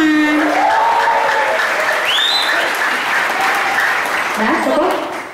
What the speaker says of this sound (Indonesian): Dukung dulu buat Haidar, tepuk tangan.